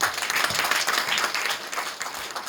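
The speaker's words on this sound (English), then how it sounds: "So please give a big round of applause for" An audience at a book launch for a suspense novel bursts into sustained applause, a dense, even wash of many hands clapping throughout.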